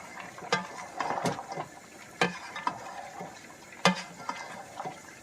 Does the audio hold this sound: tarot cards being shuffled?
no